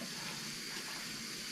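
Tap water running steadily while hands are rinsed under it at a sink, a constant close broadband gush that fills the whole moment without pauses or talk.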